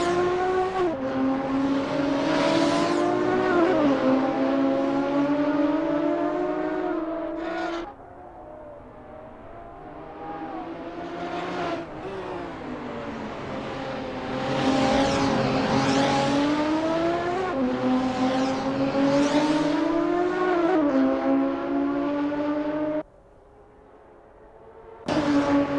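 Race car engines drone and rev continuously in a sim racing game at the Nurburgring GP circuit as drivers warm up, pitch rising and falling with repeated accelerations, loud and near, with brief dips in level.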